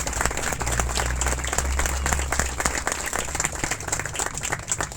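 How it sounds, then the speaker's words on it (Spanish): A church congregation claps for the Lord during a morning worship service. Dense, sustained clapping from many hands fills the space evenly, with no voices over it. "Dale un fuerte aplauso al Señor esta mañana"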